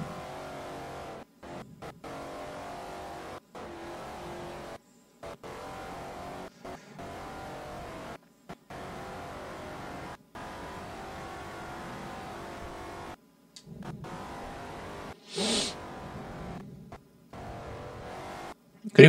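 A 2009 Mercedes-Benz SLR Stirling Moss engine in Forza Motorsport 4 hums steadily at high revs, cutting out briefly at each gear shift or lift, fairly quiet and sustained, with a short burst of talk near the end.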